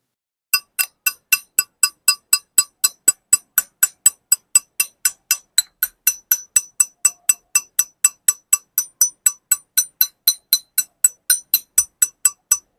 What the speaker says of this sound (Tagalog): So, medyo high pitch yung tunog ng hub